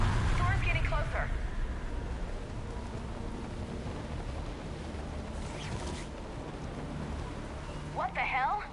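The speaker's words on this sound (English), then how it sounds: "Storm's getting closer." Steady heavy rain with low rumbling thunder in a Mass Effect 3 scene as a storm approaches, a dense continuous wash throughout with brief voices and game sounds breaking in near the start and end.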